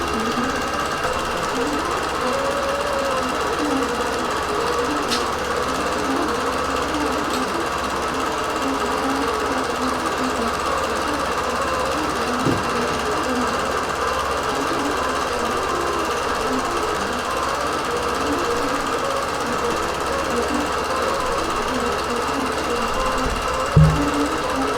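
A quilting machine runs continuously while stitching the first small row of a quilt, a steady rapid mechanical chatter and hum throughout, with a brief knock near the end.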